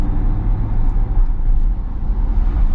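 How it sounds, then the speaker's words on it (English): A C8 Corvette with a dual-clutch gearbox accelerating: a loud, dense engine rumble that holds steady and close throughout, with no voices over it. "I can hear that engine."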